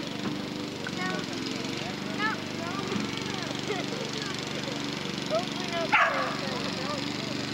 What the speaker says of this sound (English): Hey, is that my dog?